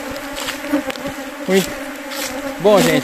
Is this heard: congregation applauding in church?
no